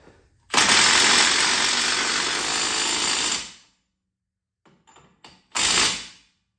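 An impact wrench runs a wheel bearing nut tight on a 2017 Chevrolet Traverse rear wheel bearing job, one loud close burst of about three seconds, a few small clicks, then a second short burst.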